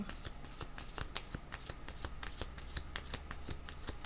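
A deck of tarot cards being shuffled: quick, rhythmic riffling clicks and soft flutters repeating steadily, quiet and close.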